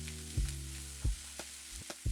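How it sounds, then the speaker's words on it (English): Vegetables with spring onion pan-fry in soy sauce, ketchup, sriracha and sesame oil, a soft steady sizzle punctuated by four or five low knocks of the pan or spatula, with no voices. "And then I'm letting everything pan fry for another 2 to 3 minutes."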